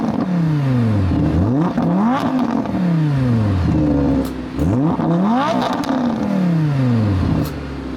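A powerful Audi R8 V10 Performance engine starts and repeatedly revs hard, sharp rising whines followed by falling drops and crackles, loud and close, several revs in a row.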